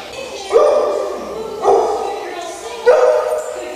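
Several trained dogs sing on command during an obedience routine, giving three drawn-out howling yowls in a row, each starting abruptly and holding steady for about a second, with no talk in between.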